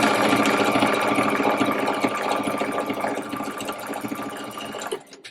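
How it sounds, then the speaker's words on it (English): A sewing machine runs a steady straight stitch along a marked line in trouser fabric, a continuous close, loud whirring rattle that slows and stops abruptly near the end. "I'm going to take this over to my machine and I'm just going to sew a straight stitch straight along that line"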